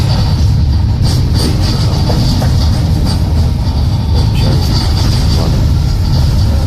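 A Kharkiv tram rolls along its tracks with a steady low rumble and faint rail clatter, heard from inside the carriage as the ride continues without break.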